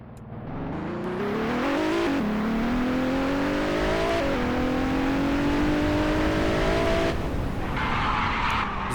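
A Nissan GT-R R35 with a V6 engine accelerates in a driving video game, its loud engine tone climbing steadily in pitch through several gear changes with tire skidding noise underneath.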